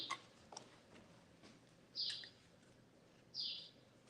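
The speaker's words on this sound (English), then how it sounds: "Oh, and we have the birds chirping." A few short, high bird chirps ring out over a quiet background, with two brighter calls spaced well apart.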